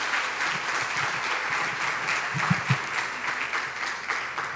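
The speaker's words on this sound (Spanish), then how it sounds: "Den un aplauso al Señor" A church congregation applauds during a Spanish-language Bible study service, a steady, even wash of many hands clapping throughout, moderately loud, with a few low thumps and no talking.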